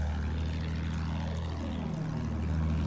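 Propeller aircraft engine droning steadily in Battlefield 1 on the Monte Grappa map, a continuous loud hum with a pass sweeping down in pitch midway, no talk over it.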